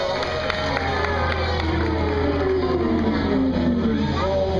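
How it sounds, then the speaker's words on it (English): Crowd cheering and whoops with some clapping from an audience at a Jungle Island animal show featuring Mr. Cookie the kinkajou, a steady loud wash of voices throughout. "So how about a big round of applause?"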